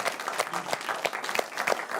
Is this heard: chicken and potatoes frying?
no